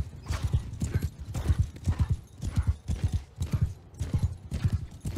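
Horses galloping in the Bannerlord video game, a steady rhythmic clip-clop of hooves pounding in repeated bursts, fairly close and continuous throughout, with an occasional whinny.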